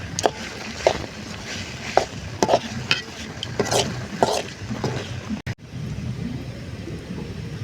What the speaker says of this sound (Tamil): தேவையான அளவு உப்பு அப்படியே கிண்டிப்போம்